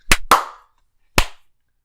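A small group claps hands together on a count: two sharp, close claps in quick succession, a pause, then a single final clap, with no talk.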